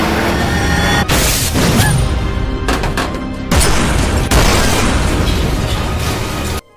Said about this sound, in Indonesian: mobil yang meledak pada malam tadi